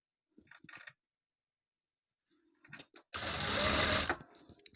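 A sewing machine stitches kurti front and back pieces together in one loud, close burst of about a second, preceded by faint handling clicks and rustles, with no other sound around it.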